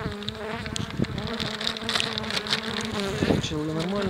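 Honey bees buzz in a dense, continuous swarm at an opened hive in spring, close and loud, with individual bees droning past and a person speaking faintly underneath.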